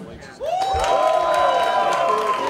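A crowd at a UFC 227 open workout breaks into cheering and whoops after a brief quiet start, loud and sustained, with a few rising shouts above the general roar.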